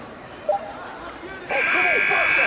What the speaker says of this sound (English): Final buzzer sounds, and that'll do it.